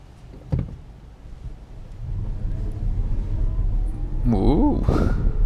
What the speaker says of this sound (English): Let's do like a full acceleration and E mode only, just to see how it feels off the line.